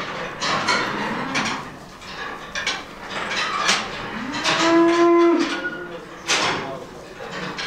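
A fattening calf at a livestock sale moos clearly, a long drawn-out call in the middle, with background farm noise and some chatter.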